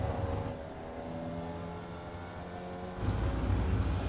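Formula Vee race car engine in iRacing at the Rudskogen circuit, a steady droning note that swells louder as the throttle opens again near the end, heard alone without talk.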